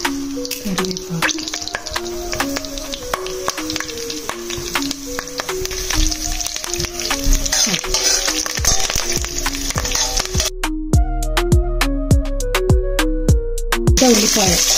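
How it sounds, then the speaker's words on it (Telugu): Tempering spices and curry leaves crackle and sizzle in hot oil with a steady broadband hiss and sharp pops, under a melodic music track. "సో ఇప్పుడు తాలింపు చేసుకుందాం."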